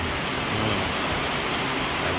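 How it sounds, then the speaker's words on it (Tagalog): Rain falling steadily in Guam, a dense, even hiss that holds at the same level from start to finish with no other sounds standing out. "Ayan ang ulan sa Guam."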